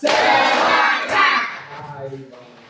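A classroom of students in an Islamic studies lesson claps together in a loud, dense wash of hands that rises twice and then fades to scattered softer claps.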